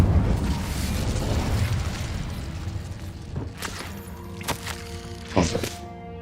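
An Incendio fire spell is cast in Hogwarts Legacy, a rushing burst of flame followed by several sharp thunks and pops, close and moderately loud, with a faint lingering tone afterward.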